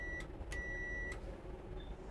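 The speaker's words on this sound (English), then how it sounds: "give the driver the ready to start signal on the bell or buzzer" Train guard's bell or buzzer giving the driver the ready-to-start signal on a ONE Anglia train: two short electronic buzzer rings, the second longer, heard moderately close over low background rumble.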